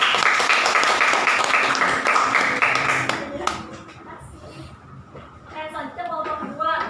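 A classroom audience claps in a short burst of steady applause that tapers off, followed by voices talking.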